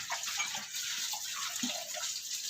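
Running water from washing up in the morning, a soft continuous splashing hiss with small irregular splatters, fairly quiet and close, with no voices.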